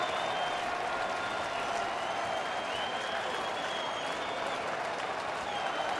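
A capacity crowd of 45,000-plus at a Tigers home opener baseball game roars and applauds steadily with two outs, a dense, sustained wash of cheering and clapping with no break.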